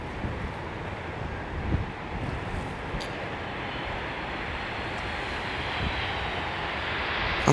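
A Boeing 737 MAX 8-200 climbs out after takeoff at Edinburgh, a broad steady jet engine roar mixed with wind buffeting at the microphone, swelling slightly toward the end, with no talk.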